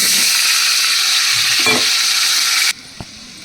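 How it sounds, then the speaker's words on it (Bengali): Steamed taro pieces fry in a pan with a steady, close, hissing sizzle for a few seconds before it abruptly drops away to near quiet, with a couple of faint knocks. "এবার দেখো এগুলো প্রায় লাল লাল করে ভাজা হয়ে এসছে।"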